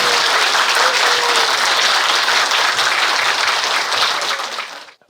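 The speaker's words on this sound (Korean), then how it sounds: "뜨거운 박수로" Sustained, dense applause from an auditorium audience welcoming a professor to the lectern for a talk on the Korean War, steady and loud throughout before cutting off abruptly near the end.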